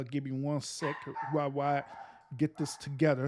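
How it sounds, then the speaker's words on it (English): A pet dog barks and yips in short bursts close by, mixed with a person talking over it indoors in a home. "Excuse my dog for barking."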